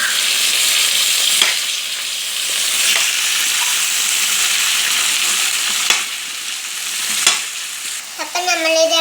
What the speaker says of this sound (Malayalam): നമ്മൾ അരിഞ്ഞു വെച്ച കായ അതിലേക്ക് ഇട്ട് കൊടുക്കാം. നമുക്കിതൊന്ന് ഇളക്കി കൊടുക്കാം.